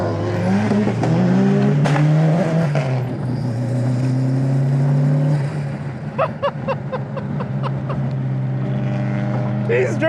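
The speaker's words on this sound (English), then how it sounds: "He's drifting around these roundabouts." A car drifting around roundabouts, its engine revving and droning loudly and steadily, with a person talking over it throughout.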